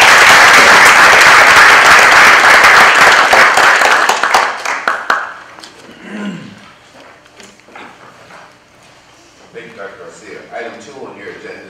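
Audience at a county commissioners court meeting giving city representatives a big round of applause, loud dense clapping that fades out after about five seconds, followed by scattered murmurs and room noise.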